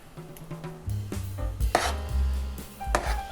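Chili powder is folded slowly into a pot of chili, making close scraping and knocking sounds of a spoon against the pot in an uneven rhythm, with a few clinks and no talk.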